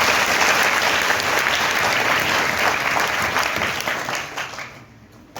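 Audience applause at a school one-man stage play about Mahatma Phule, a dense steady clapping from many hands that holds loud for several seconds, then thins and fades toward the end.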